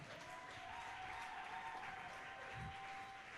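A church congregation at a prayer service applauds steadily throughout, a dense continuous wash of clapping in a reverberant room, moderately distant, with no voices over it.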